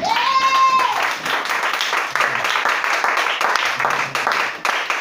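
A church congregation claps and applauds during a worship service, a dense and fairly loud wash of many hands, with voices calling out over it.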